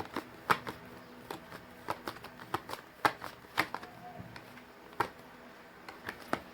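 Tarot cards being shuffled and drawn from a deck, producing a string of soft papery flicks and slaps at an uneven pace, quiet and close with no speech over them.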